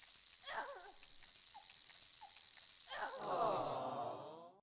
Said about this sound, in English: It's the goddamn enemies that sound like whining dogs.